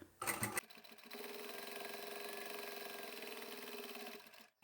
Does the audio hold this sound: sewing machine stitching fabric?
yes